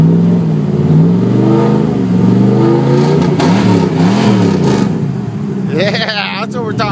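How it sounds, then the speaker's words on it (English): A Cadillac engine revs up and down in swelling, falling sweeps, loud and close, with a person talking over the engine noise. "Rev it up, son."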